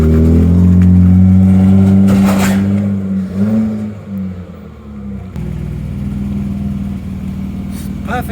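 A BMW E36 drift car fitted with E46 control arms drives with a loud low engine drone that rises and falls, close and dominant, with talking over it.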